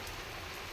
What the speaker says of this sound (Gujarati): જો વરસાદ બરાબરનો પડે છે